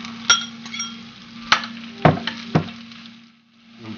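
Pork pressed into a hot pan beside onions for Chinese twice-cooked pork, with a steady close sizzle running under several sharp clinks and scrapes of a utensil against the pan.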